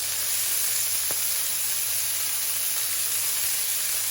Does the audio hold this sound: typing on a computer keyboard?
no